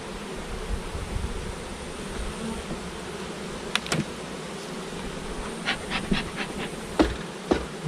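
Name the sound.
honeybees buzzing around an open hive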